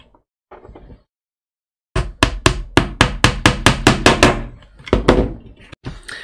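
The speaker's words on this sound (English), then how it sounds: "just using a tack hammer and just tack them down." About a dozen sharp, evenly spaced taps of a small tack hammer striking pins into wooden hull planking of a model ship, loud and close, after a few quiet handling sounds.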